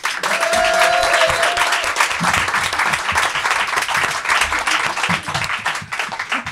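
A comedy show audience breaks into loud, sustained applause to welcome comedian Anne-Sophie Girard, a dense wash of many clapping hands with some cheering, close and steady throughout.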